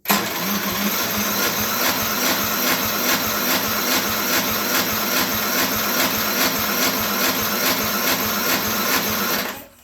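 A Craftsman Platinum lawn mower engine cranks on its battery starter but fails to catch, giving a steady, rapid mechanical rattling and whirring that runs evenly for nearly ten seconds before stopping.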